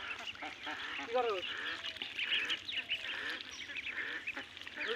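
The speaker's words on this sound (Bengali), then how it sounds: "ওই যে বাবারে ওই যে হাঁস" Several ducks quack and honk intermittently at a moderate distance, a busy, scattered flock chatter over a low background hum.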